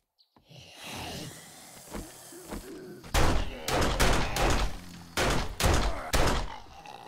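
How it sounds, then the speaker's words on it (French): A small pistol fires in 7 Days to Die with several sharp, loud shots in quick succession after quieter handling thuds at the start. "J'avais oublié ce plaisir avec le petit pistolet comme ça."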